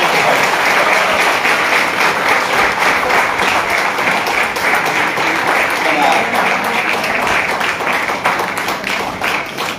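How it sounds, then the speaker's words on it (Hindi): Loud, sustained applause from an audience at a school event showcasing gurukul children's yoga and meditation skills, dense continuous clapping filling the whole stretch with a faint crowd murmur underneath. "तो जोरदार तालियां बजाएं।"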